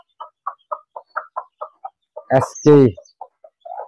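A mother hen with nine newly hatched chicks makes a steady series of soft, evenly spaced clucks close by. A person says a brief word partway through, followed by a louder call before the clucking resumes.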